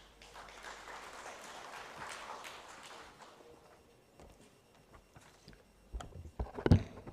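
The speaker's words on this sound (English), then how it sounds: "Please give a round of applause and welcome Ms." Scattered applause from a seminar audience, moderately faint and diffuse, fading out after a few seconds, followed by a few louder close knocks or taps near the end.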